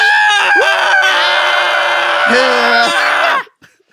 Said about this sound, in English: That was both terrified scream and excited scream.